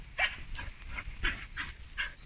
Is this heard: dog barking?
yes